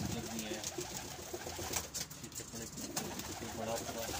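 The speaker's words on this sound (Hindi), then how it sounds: "ये बड़ा बड़ा सही वाला कबूतर है" Golden and dewlapped breeder pigeons coo in soft, throaty repeated calls close by, layered over one another, while someone speaks intermittently.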